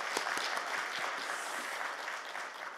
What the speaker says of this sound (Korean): 박수 한번 크게 쳐보세요.